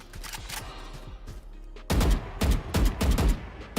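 Repeated bursts of gunfire in the tactical shooter Valorant, several loud rapid volleys after a quieter stretch of distant shots and game ambience, fired close and punchy one after another.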